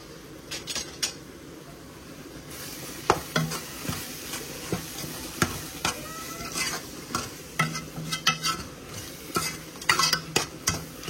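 Spice masala of coriander, chili and turmeric powders frying in a pan, with a low steady sizzle under repeated sharp scrapes and clinks of a utensil stirring, close and fairly loud.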